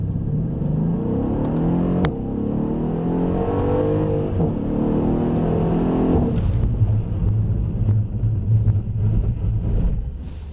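A car accelerates hard with a loud, rising engine roar through the gears, then after about six seconds the tone drops into a rough, rumbling deceleration as it brakes firmly to a stop; a sharp click sounds early on.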